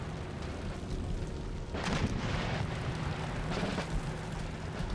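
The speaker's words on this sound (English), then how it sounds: "Except cannons being fired, but I think that are my own cannons." Cannons fire in a fort siege in Empire: Total War, giving muffled booming blasts over a constant battle rumble, with a stronger burst near the middle and further thuds after it, all fairly distant and low in level.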